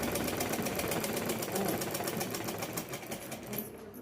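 A sewing machine runs fast and steadily, stitching a lined blouse, its rapid regular clatter continuing close up for several seconds before easing off at the end.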